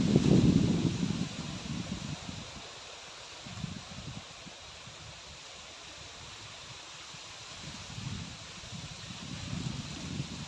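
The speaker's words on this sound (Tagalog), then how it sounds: "Lakas ng hangin dito." Strong wind blows outdoors near a hut in the afternoon, a broad, constant rush with gusty low buffeting against the microphone, heaviest at the start and again near the end.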